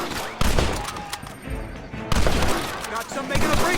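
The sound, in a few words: gunfire volley from video game Red Dead Redemption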